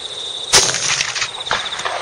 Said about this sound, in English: Jeepers, where are you shooting?